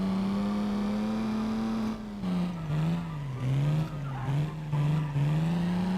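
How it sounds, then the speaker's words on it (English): Chevrolet straight-six engine in a Brazilian muscle car in the BeamNG video game, a high, raspy drone holding steady, then rising and dipping through several quick rev swells and gear changes, loud and close with no talk. "It's quite a high-pitched, raspy straight six."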